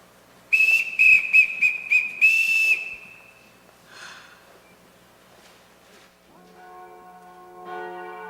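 A ship captain blows a bosun's whistle in a series of loud, shrill pulsing trills that end in a long held note. Quieter sounds follow, then soft music.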